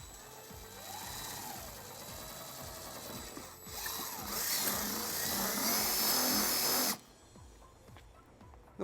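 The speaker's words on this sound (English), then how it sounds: "using a 3/16 drill bit, we're going to drill our first hole." A power drill with a 3/16 bit bores a hole into the bottom of a 2019 GMC Terrain bumper, a steady whirring motor that rises in pitch and strain as it cuts, then stops abruptly.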